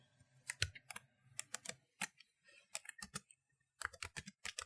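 Bursts of keystrokes on a computer keyboard while entering a shortcut in Harmony 10 animation software, short clustered clicks in uneven groups with brief pauses between them, close and fairly quiet, no talking.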